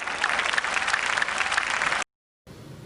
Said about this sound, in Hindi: अमिताभ जी के लिए जोरदार तालियां।